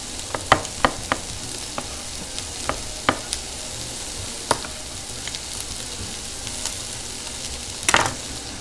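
Mushroom and egg mix sizzling in a frying pan, a steady low hiss with scattered sharp pops and crackles spaced irregularly throughout, louder spatters near the end, no voices.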